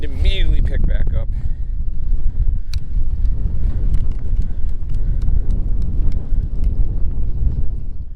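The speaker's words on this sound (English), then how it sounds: "Wind immediately picked back up." Strong wind buffeting a microphone on open water, a steady loud roar with low rumble throughout, with a brief voice and some knocking near the start.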